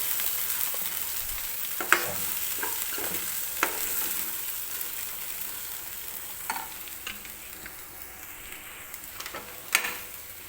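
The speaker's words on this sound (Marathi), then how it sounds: "आता व्यवस्थित हे मसाले आपल्याला या ग्रेव्ही सोबत भाजून घ्यायचे आहेत." Spices being stirred and roasted in gravy for mutter paneer; a steady frying sizzle with scattered clinks and scrapes of the spoon against the pan, moderately close, with no speech.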